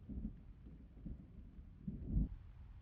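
Low rumbles of distant thunder roll in a few soft bursts under faint outdoor rain, muffled and quiet throughout.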